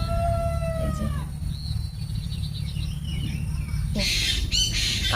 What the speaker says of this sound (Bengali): পাখিগুলো ডাকছে দেখো